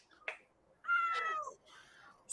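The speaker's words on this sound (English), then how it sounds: "Such silly meows." A male cat meows indoors, heard as a short chirp followed by a longer, drawn-out meow and a few quieter trailing calls, close and clear.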